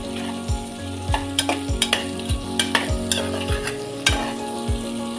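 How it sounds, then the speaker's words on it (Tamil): Quartered tomatoes sautéing in a pan for rice and lentil dish, a steady close sizzle with a low hum beneath and a dozen sharp scraping strokes of a spoon stirring at a regular rhythm, no talk. "அப்புறம் இன்னும் வதக்கட்டமா"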